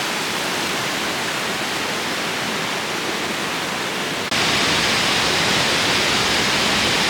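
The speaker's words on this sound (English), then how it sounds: "A few waterfalls." Waterfall on a hiking trail, a steady broadband rush of falling water that fills the clip without pause and swells louder about two thirds of the way through, close and constant with no voices.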